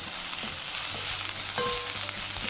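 Spice powders with salt being sautéed in a pan for soya masala, a steady sizzle with a few spoon scrapes and clicks, heard close up with no talking.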